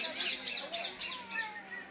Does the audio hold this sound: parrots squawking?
yes